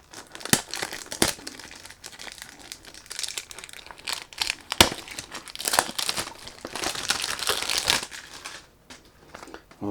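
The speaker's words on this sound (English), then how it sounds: "When you do unboxing, unfortunately you can't do anything about the noise" Cardboard and plastic packaging of a Riiffs Elegant Homme 100 ml eau de parfum box being unboxed, with close, loud, irregular crinkling and crumpling and sharp tearing bursts throughout.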